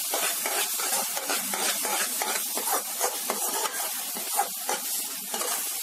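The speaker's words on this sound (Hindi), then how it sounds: "अब मैं 1/2 स्पून के करीब ये गरम मसाला डाल दूंगी इसमें और मिक्स कर दूंगी।" A spoon stirs garam masala into a sizzling onion-tomato masala for matar paneer, with close, rhythmic scraping strokes over a constant frying sizzle.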